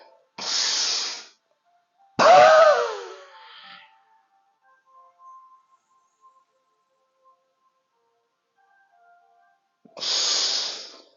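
Deep breaths during a leg exercise routine, with a sharp airy inhale and a longer voiced exhale near the start, then quiet before another strong close breath at the end.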